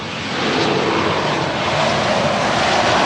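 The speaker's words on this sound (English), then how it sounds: "a big feature of Dead End is the planes landing because the airport is right there" Airplane landing at a nearby airport in Jamaica, a loud, steady roar of engine noise that swells in the first half-second and then holds close and continuous, with no talk.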